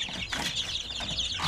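Oriental-breed chickens kept as backyard fowl clucking: a few soft, close clucks and chirps over quiet background.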